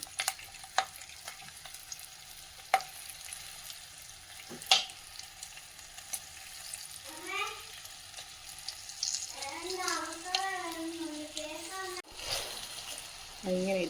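Stuffed bajji chillies fry in hot oil with a steady low crackle and sizzle throughout, stuffed side down, broken by occasional sharp pops and splatters, while someone talks over the cooking.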